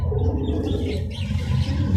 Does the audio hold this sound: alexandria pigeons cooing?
yes